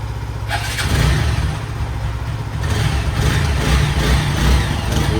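Two motorcycle engines run together close by, a steady loud rumble that swells slightly as one revs, continuing unbroken with no talk.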